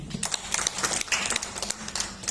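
Audience clapping at a health presentation in Singkawang, a brief burst of scattered, moderately close handclaps, fairly faint and uneven.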